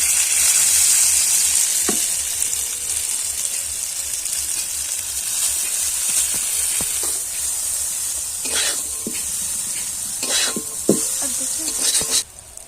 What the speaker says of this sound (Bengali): তেলটা গরম হয়ে গেছে, এবার জল ঝরিয়ে রাখা চাউমিনগুলো দিয়ে দেব।